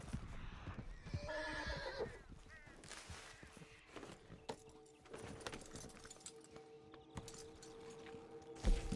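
A horse whinnies loudly in Red Dead Redemption 2 Online, followed by clopping hoofbeats and assorted game sound effects, with no talking.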